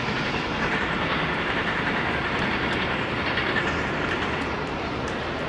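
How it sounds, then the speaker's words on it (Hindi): A train rolls past near a dairy farm outside Lahore, a steady loud rumble with faint clickety-clack of wheels on rails filling the whole stretch without letup. "वो सामने से ट्रेन गुजरी है"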